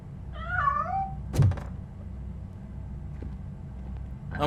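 A cat meows in Robocop: Rogue City, one rising, wavering cry followed by a sharp thunk like a door, then a low game ambience with a faint second meow starting at the end.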